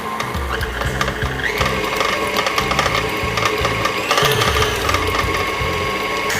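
An electric mixer beating cream cheese icing at high speed, a loud steady mechanical whir with grinding, rattling gear tones that shift slightly in pitch midway, running continuously without speech.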